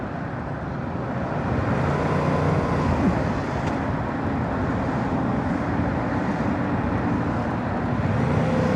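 Steady dense road traffic in Houston heard from a motorcycle commute on a 2022 Yamaha YZF R7, a continuous loud rumble of engines and tyre roar with wind noise, no talking.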